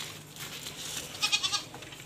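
Goats in a farm pen let out a quick run of three or four bleats, moderately close, against a quiet background.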